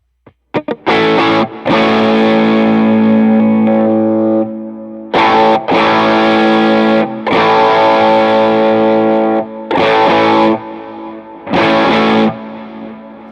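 Distorted electric guitar on the bridge pickup with tone rolled back, dulled and less bright, playing sustained chords in several bursts separated by short pauses, loud and close.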